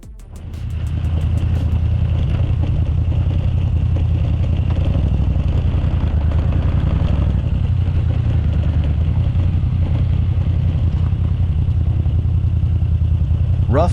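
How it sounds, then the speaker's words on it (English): A Moto Guzzi motorcycle riding a rough, washed-out gravel road on new tires, its loud steady engine drone running throughout with gravel crunch and clatter underneath. "Rough, but this Moto Guzzi is handling it well enough."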